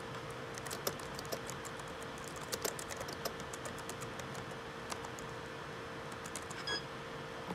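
Quiet, rapid typing on a computer keyboard while writing a Yammer post, with steady clicking keystrokes in uneven bursts over a faint background hiss.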